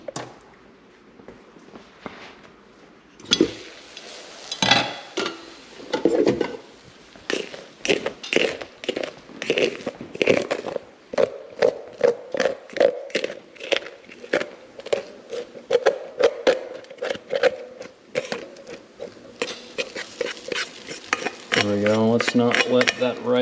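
A spatula scrapes and stirs rice in a stainless steel pan that is not non-stick, giving repeated close metallic scrapes and clinks in an uneven rhythm throughout.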